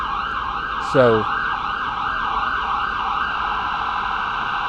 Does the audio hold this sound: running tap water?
no